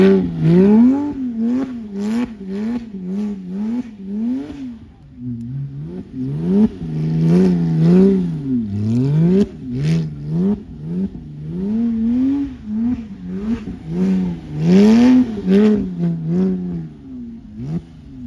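Ferrari 812 GTS V12 revving repeatedly at a busy car event, loud and close, with rising and falling sharp engine notes across the whole stretch.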